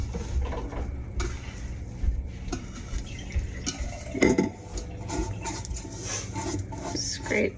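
Dough being scraped out of a mixing bowl onto a floured counter while making Easter bread, with scrapes and light clatter of bowl and utensil close by.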